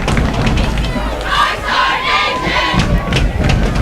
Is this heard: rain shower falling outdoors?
no